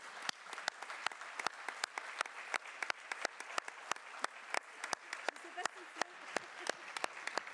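Sparse applause at the closing of a departmental conference on isolation, for Fabrice and his team: distinct individual claps in an uneven rhythm over a low murmur of voices in a hall, moderately quiet.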